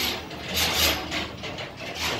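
A small elevator in an 18-storey KOPE-series apartment block arrives with a loud, continuous mechanical creaking and ratcheting that swells and fades over about two seconds, with no talk.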